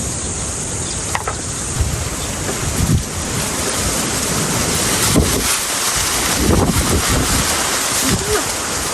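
Strong wind roars and buffets the microphone continuously on a rural farm field, with surging low rumbles and a constant broadband rush, like gusts sweeping over open water.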